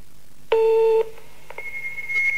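An electronic telephone answering machine sounds its beep before a message is recorded: a loud half-second tone, then a couple of short blips and a higher sustained tone, alone in a quiet line.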